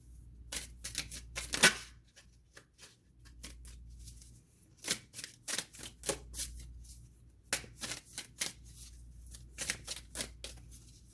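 Tarot cards are shuffled by hand in quick papery riffles and flicks, close and fairly quiet, in uneven bursts with short pauses between them.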